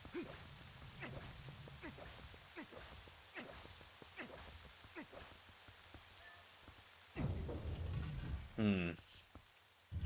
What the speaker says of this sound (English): It's only the sounds of the rain.